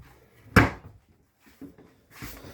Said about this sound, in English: This is a nice pull out with a drawer here. These are quiet close.